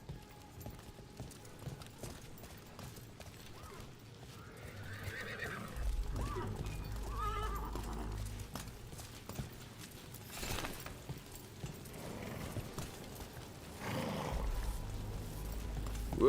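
Rhythmic clopping of donkey hooves in the fantasy video game Dragon Age: The Veilguard, with animal brays and snorts, low rumbling and ambient game sound running steadily throughout at moderate level.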